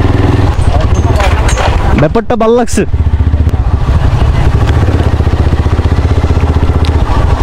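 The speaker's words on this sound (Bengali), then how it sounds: "এই পিচ্ছি স্পোর্টস বাইক নিয়ে বাপেরে নিয়ে বার হয়েছে বাইক রাইড করতে" A small sports motorcycle ridden by a young child with her father aboard, engine droning steadily and close throughout, with a brief louder revving burst in the middle and people talking over it.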